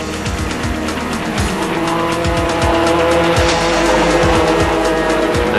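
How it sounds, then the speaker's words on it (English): Formula 3 race cars from the 1992 British championship roar through a corner, engines screaming loud and close with repeated rising and falling revs and a continuous raw mechanical blare. "It had been a bold challenge from Van Hoel as the cars exited Coram Curve"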